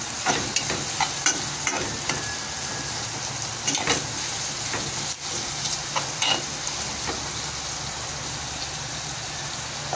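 Onions sautéing in a hot pan for a milkfish dish, giving a steady broadband sizzle with scattered crackles and stirring clicks, close and fairly loud, with no talking.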